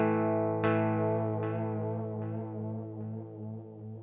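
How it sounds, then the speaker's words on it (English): Electric guitar through an EHX Canyon delay pedal in tape emulation mode, a sustained distorted chord followed by three or four fading repeats with a slight warble, steady and alone. "I should get tape flutter modulation depth with my feedback knob, and then distortion level with the delay knob."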